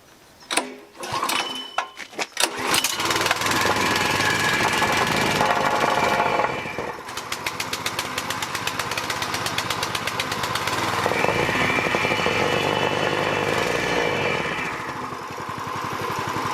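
A Nielsen C60 plate compactor's small engine is pulled over with a few sputters, catches and runs, settling into a loud, steady rattling drone close by that rises and eases as the throttle changes.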